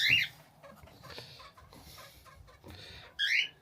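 Chickens clucking and chirping in short bursts at the start and end, with quieter rustling and faint bird sounds in between.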